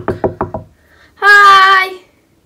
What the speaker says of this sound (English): Should we knock?